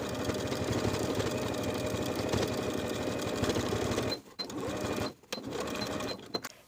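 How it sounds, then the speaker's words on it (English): Sewing machine top stitching a seam allowance along the top of a pant leg on a jumpsuit, a steady close-up mechanical whirring with a couple of short pauses near the end. "Now I'm going to top stitch the seam allowance to the top of the pant, from one side to the other."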